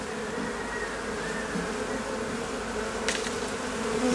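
Dense, steady hum of a large mass of honey bees after merging with a queenless colony, a continuous close buzzing drone with no voices.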